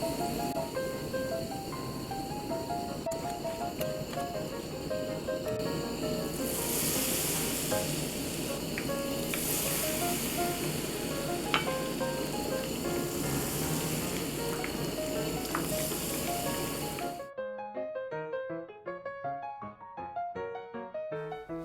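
Aralia shoots (durup) deep-frying in oil, a loud, dense, steady sizzle and crackle close up that runs on for a long stretch, then drops to quieter sparse popping near the end, with no talking.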